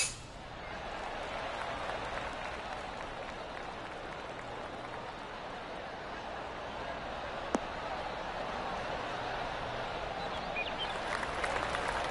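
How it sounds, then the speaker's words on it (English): Polite golf-gallery applause from a crowd in a PGA golf video game, a soft, steady patter of clapping that continues for several seconds at moderate distance. "Oh, golf clap."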